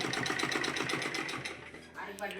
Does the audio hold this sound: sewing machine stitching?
yes